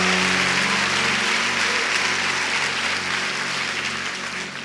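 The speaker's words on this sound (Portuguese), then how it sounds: "Pode aplaudir a Jesus por isso" A church congregation applauds during a sermon, a dense, steady wash of clapping that fills the room and fades slightly toward the end, with no voices on top.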